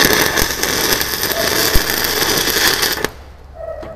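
A stick welding arc strikes a first tack weld at 80 amps on a 3G open root plate, a loud, dense crackling buzz for about three seconds before abruptly cutting off to near quiet.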